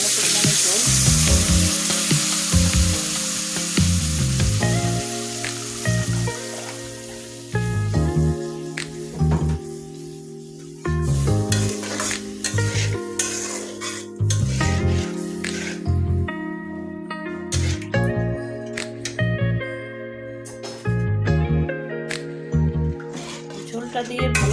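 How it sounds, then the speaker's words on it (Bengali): Chickpea dal curry with added water sizzles and bubbles in a hot pan and is stirred steadily, with a continuous loud frying hiss and repeated scraping clinks of the spoon against the pan. "ঝোলটা দিয়ে ভালোভাবে আমি নাড়াচাড়া করে নিচ্ছি।"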